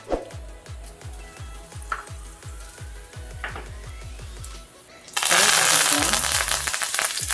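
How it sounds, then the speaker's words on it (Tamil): Fennel seeds tempered in hot oil for a tiger prawn gravy: after a run of rhythmic low thuds, a loud, broad sizzle bursts out suddenly and holds steady to the end. "சோம்பு போட்டு தாளிச்சிக்கலாம்."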